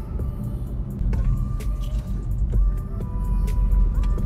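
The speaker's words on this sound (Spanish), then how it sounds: "lo único que uno escucha son las imperfecciones del camino" Inside a moving BMW i3 electric car there is no engine note, only a steady low road rumble from tires on an uneven surface. Occasional faint clicks and thumps come from road imperfections.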